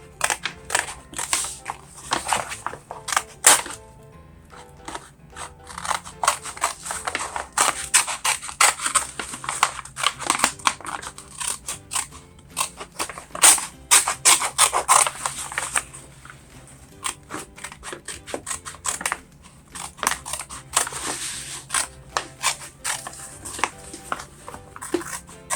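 Scissors cut through a paper grocery bag in bursts of crisp crunching and crinkling snips, loud and close, with brief pauses between stretches of cutting.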